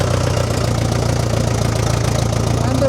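A smoky old vehicle engine running, a close, loud, steady idle with a deep, even throb and a faint knocking texture.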